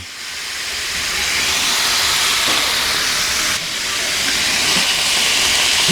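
Pork belly, about a kilo seasoned with salt and pepper, sears in a pan with a steady, loud hissing sizzle that holds throughout with no talking.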